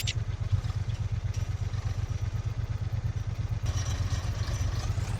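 A motorcycle in Farming Simulator 22 rumbles steadily with a low, even engine throb, loud and close throughout with no talking.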